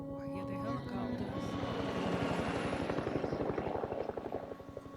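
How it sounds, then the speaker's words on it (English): Helicopters in a Walking Dead: The Ones Who Live episode, a steady chopping rotor pulse that builds and holds throughout, fairly loud with a low rumbling drone beneath. "I hear the helicopters."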